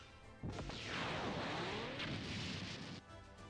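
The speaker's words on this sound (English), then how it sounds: "Unable to escape, Yamcha dies in the explosion induced by the self-destructing weapon the Saiyans had made" In the Dragon Ball Sparking Zero video game, a self-destructing weapon explodes with a sudden loud blast and falling, whooshing sweeps, a heavy rumble sustaining for a few seconds before dropping away sharply.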